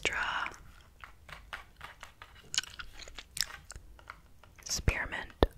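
Spearmint gum chewed right at the microphone, with wet, irregular smacking and crunchy clicks at close range; soft whispering is heard at moments.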